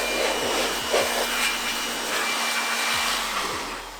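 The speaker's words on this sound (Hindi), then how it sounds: "मैं एक नॉर्मल सा लीफ ब्लोअर यूज़ कर रहा हूँ" An ordinary leaf blower blows dust out of a desktop PC during cleaning, giving a steady, loud, close whooshing roar with a constant motor whine that runs throughout.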